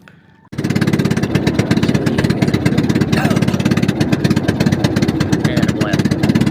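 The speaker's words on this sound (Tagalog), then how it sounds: "paalis na nga tayo at medyo nagtatampo yung ating makina ngayon guys" A fishing boat's engine starts up and runs roughly, a loud close chugging with uneven pulsing knocks, while someone talks over it.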